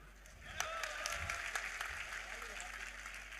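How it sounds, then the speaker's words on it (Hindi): Audience clapping at a religious discourse on the Jagannath Rath Yatra, a steady broad wash of applause from a crowd lasting throughout, with speech faintly over it. "जिसकी तरफ था जरा जोर से ताली बजाओ फिर"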